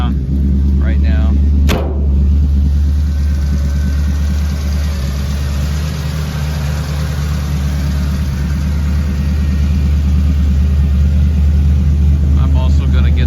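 A 1953 Chevy 3100 pickup with air ride suspension idles steadily after start-up, a loud continuous low engine rumble with a brief sharp knock early on.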